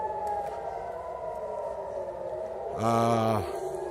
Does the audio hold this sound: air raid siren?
yes